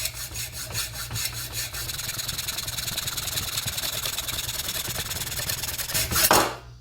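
Hand saw cutting through an aluminum VIN data plate, a steady rhythmic rasping of back-and-forth strokes, close and continuous, ending with a brief louder scrape.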